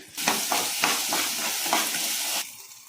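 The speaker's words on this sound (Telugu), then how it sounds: "అవన్నీ బాగా వేగిన తర్వాత టమాటా అయితే చిన్న చెక్క వేసుకుంటున్నాను." Onions and tomato sizzle and fry loudly in a pan, close up, with a steady hiss broken by several rhythmic scraping stirs for about two and a half seconds before it cuts off; no talking.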